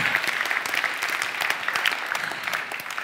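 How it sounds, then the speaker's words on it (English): An audience at a VR industry award show claps steadily, a dense patter of many hands that holds at an even level throughout. "Big round of applause for Holodeck VR."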